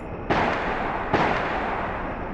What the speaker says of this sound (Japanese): 今のは銃声か